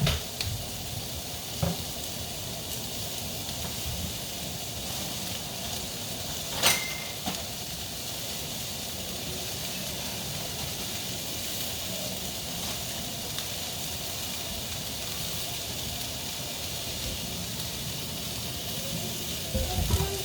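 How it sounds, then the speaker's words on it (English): Continuous close-up sizzle of a little oil heating in a frying pan before shrimp go in, a steady bright hiss with a few light clinks of utensils. "I'm going to add just a little oil to my pan for the shrimp, just a drop to recoat that pan."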